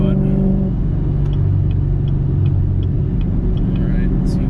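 A Chevrolet Camaro fitted with a JMS PedalMax throttle controller pulls away with a steady, loud low engine rumble that holds throughout, heard from inside the car with faint higher tones over the drone.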